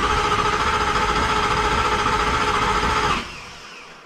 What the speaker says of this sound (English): push this button here and rotate the engine through a few cycles